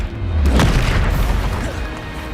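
A Confringo fire spell bursts in Hogwarts Legacy, a loud close boom with a crackling explosive tail and rumbling low end that fades over about two seconds.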